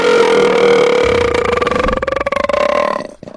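A long, loud burp from a gassy young man rumbles steadily for about three seconds, with a stuttering, throaty texture toward the end before it cuts off, heard alone at close range.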